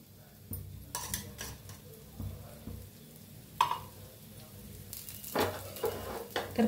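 Dosa batter sizzles in oil on a hot pan, a soft continuous frying hiss close by, broken by several sharp scrapes and clinks of a utensil against the pan.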